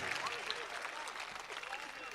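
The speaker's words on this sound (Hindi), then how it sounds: "तालियां बजाइए" Audience applause at a mushaira (Urdu poetry recital), a steady dense wash of clapping that fills the whole stretch at moderate level, with voices mixed in.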